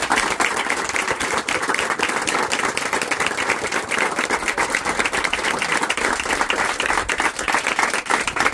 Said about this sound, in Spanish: un aplauso enorme para todos ustedes